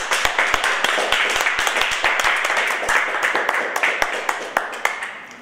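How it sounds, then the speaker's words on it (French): People clap at a gathering. Individual hand claps stand out sharply over a dense bed of applause, with some voices mixed in. "Applaudissez le peuple."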